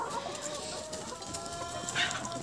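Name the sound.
chickens clucking on a farm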